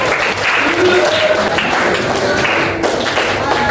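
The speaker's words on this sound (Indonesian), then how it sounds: "Tepuk tangan untuk kelompok terakhir" Applause from an audience for the last group presenting at a class session, a dense steady patter of clapping held at an even level throughout.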